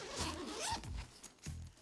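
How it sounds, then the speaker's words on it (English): A zipper on a camera backpack slides open in a few quick, close rasping pulls, loud and alone with no talk. "nothing that drives me nuts more than grabbing a zipper and having to rip it open"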